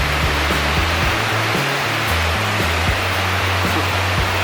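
Heavy water flow swollen after a downpour rushes loudly and continuously up close, a dense waterfall-like roar with no talk over it.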